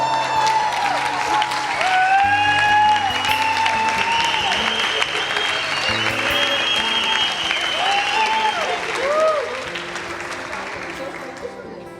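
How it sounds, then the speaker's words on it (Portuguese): A church congregation applauds in sustained, dense clapping for several seconds while voices cheer and sing over it, fading a little toward the end. "Aplauda ao Senhor!"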